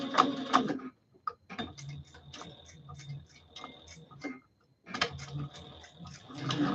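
A sewing machine back stitching a custom leather vest, its clattering mechanical runs coming in bursts close up, separated by short pauses, with a voice speaking briefly between runs.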